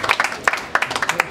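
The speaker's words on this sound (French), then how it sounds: "Applaudissez pour le président" Audience applause for a president at a church gathering, dense fast claps from a fairly close crowd with uneven bursts throughout.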